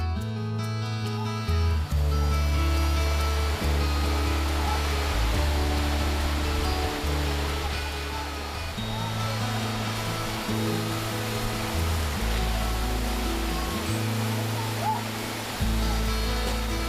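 Sea waves wash and break along the rocky Seogwipo coast on Jeju in spring, a steady broad rush of surf that runs under music throughout.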